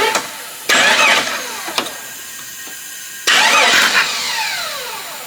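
Jeep 4.0L engine with a loud exhaust leak cranks over in two separate loud bursts, each a rapid starter churn with raspy exhaust pulses, the engine settling into a rough idle between and after them.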